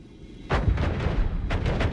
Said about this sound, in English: It's not really that big of an explosion.